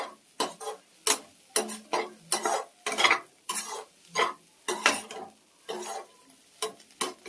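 Spatula stirring bitter gourd and egg fry seasoned with pepper in a pan, a steady series of close scraping strokes in uneven rhythm, with no talk over it.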